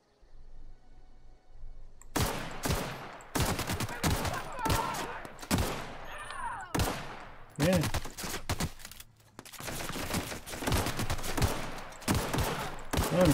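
Gunfire in The Outer Worlds, a string of close, sharp shots and short bursts that begins after a quiet opening and is spaced irregularly across the rest of the stretch.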